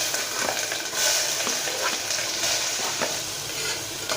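Chopped onions sizzle steadily in hot ghee, frying for chana biryani. A spoon stirs through them now and then with soft scraping taps over the constant hiss, close up and with no talking.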